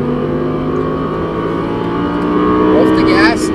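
An Audi R8 V10 accelerates hard on a race track, its engine droning steadily and then climbing in pitch and loudness near the end, with in-car instruction voices talking over it.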